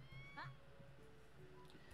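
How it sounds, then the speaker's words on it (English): A house cat meowing, one rising, wavering meow near the start followed by fainter mewing sounds against quiet room noise, with a person's voice faintly present. "What is wrong with this cat?"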